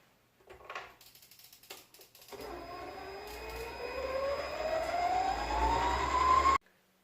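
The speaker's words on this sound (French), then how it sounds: "On va mettre dans la cuve du robot les blancs d'œufs. Et on va maintenant les monter en neige" A stand mixer whips egg whites for a speculoos tiramisu: a few clicks, then the motor starts and whines steadily, its pitch rising as it speeds up before cutting off abruptly, with no voices.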